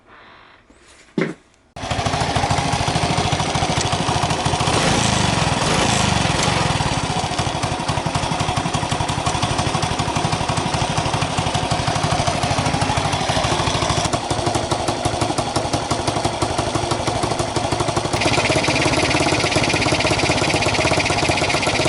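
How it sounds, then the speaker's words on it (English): A Honda C200 Cub motorcycle engine, under restoration, catches after a brief starting burst and then idles with a loud, steady, rapid single-cylinder thump close by, holding evenly throughout with no talk. "put some fuel in, test it up, getting it idle"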